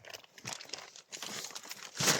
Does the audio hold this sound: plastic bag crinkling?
yes